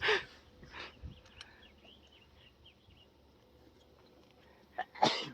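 A sharp sneeze bursts out near the end, preceded by a couple of sniffs or breathy snorts over quiet background.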